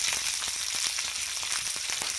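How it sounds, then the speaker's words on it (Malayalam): Mustard seeds crackle and pop rapidly in hot oil over a constant sizzle, the sharp spits coming in quick irregular bursts. "അതിനകത്തേക്ക് ഞാൻ കടുക് ഇടാൻ പാണ് കടുക് പൊട്ടി വറ്റൽമുളക് ഇടാൻ പാണ്"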